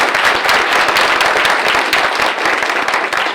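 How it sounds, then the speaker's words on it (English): Audience applause at a drag racing press conference at PRI, dense, loud and continuous clapping from a crowd filling the whole stretch. "Another round of applause for you four."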